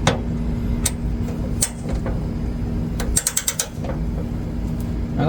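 A ratchet wrench clicks while tightening during wiring work on a 1965 Ford F100 with a Coyote engine swap, scattered single clicks then a quick run of four or five ratcheting clicks, close and clear.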